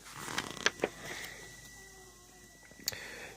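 A toy store door swings open with a drawn-out creak, preceded by a few sharp clicks and knocks, quiet and alone with no talk.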